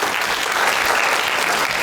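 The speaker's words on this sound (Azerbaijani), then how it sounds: "Dostlar gəlin, əziz dostlar, alqışlarla." Audience applause for the cast at the close of a comedy concert: dense, steady clapping from a crowd, loud and continuous throughout with no breaks.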